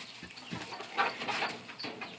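Black-skinned chickens, including naked neck juveniles and showgirls, cluck and murmur in a pen on a farm, a soft, close, brief run of low chattering calls.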